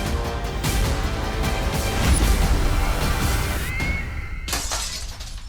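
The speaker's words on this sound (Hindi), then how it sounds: "ये लो, लगता है विवान ने क्रिकेट की गेंद से फिर से खिड़की के शीशे तोड़ना शुरू कर दिया।" Window glass shattered by a cricket ball, a loud sustained crash of breaking glass with scattered tinkling fragments, fading before a final burst near the end.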